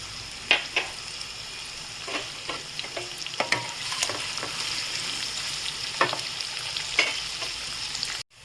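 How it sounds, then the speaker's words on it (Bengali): Chopped onion with a little sugar sizzles steadily in a hot pan, a constant hiss broken by frequent sharp clicks and scrapes as it is stirred, with no voices. "পেঁয়াজটা যখন ভাজবো তখন আমি অল্প, দেখো, একটু সামান্য চিনি দিচ্ছি।"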